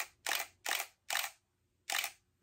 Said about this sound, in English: I can just hold it down and shoot, and this flash recharges very fast